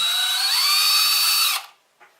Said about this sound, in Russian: Здесь мы предварительно просверливаем отверстие.